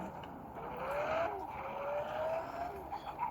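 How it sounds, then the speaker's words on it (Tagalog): Lamborghini engine in a racing video game, a steady mid-loud drone with rising and falling whines of revs and gear changes across the whole stretch, with no talk. "So, maganda yung tunog ng kotse"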